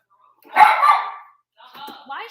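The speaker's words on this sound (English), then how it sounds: "Why is she barking at you, Ephraim?" Luna the dog lets out a loud burst of barking up close, followed by a quieter second yelp-like bark after a short pause.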